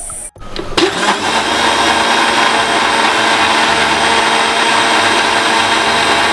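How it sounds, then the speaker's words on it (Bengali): A kitchen mixer grinder blends milk and other mango ice cream ingredients in a closed jar, starting with a brief clunk and then whirring loudly and steadily at close range without pause. "দিয়ে মিক্সিতে দিয়ে আমি ব্লেন্ড করে নেবো"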